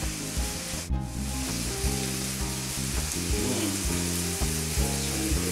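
Pinchos morunos meat skewers sizzle steadily as they cook close by, a continuous frying hiss with a few light knocks, and no talking.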